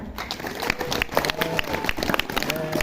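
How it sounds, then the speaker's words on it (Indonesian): An audience claps at an Indonesian Independence Day village gathering, the applause uneven and mixed with crowd noise and a few voices, lasting a few seconds. "yuk tepuk tangan untuk kita semuanya"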